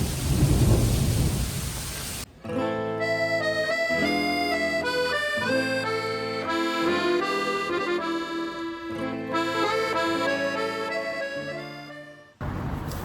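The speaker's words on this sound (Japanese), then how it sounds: "もう雷がすぐそこって感じ。 めちゃめちゃすごい。もう土砂降り。" A heavy thunderstorm downpour in Italy roars loudly with low rumbling for about two seconds at the start and again briefly at the end, while instrumental music fills the long stretch between.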